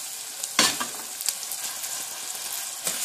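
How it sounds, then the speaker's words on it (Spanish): Bread toasting in a frying pan with chorizo and ham for Castilian garlic soup gives a steady soft sizzle, broken by a few sharper crackles and scraping stirs. "Y mientras tanto también voy tostando el pan para que coja más sabor."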